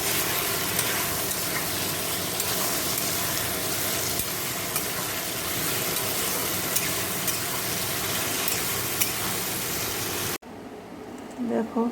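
A fish curry of pumpkin, potato, tomato, green chilli, salt and turmeric sautéed in a pan, with a continuous loud sizzle and stirring that cuts off near the end.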